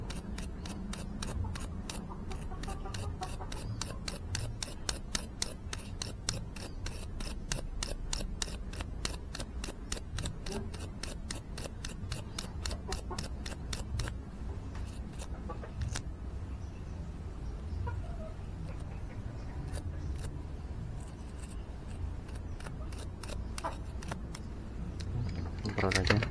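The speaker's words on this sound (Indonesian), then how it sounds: "korek-korek biar kerak olinya ini hilang ya," Oil crust scraped off Honda Supra X 125 Fi motorcycle parts, a rapid, rhythmic series of close scratching strokes that later thin into sparser scrapes, with someone talking throughout.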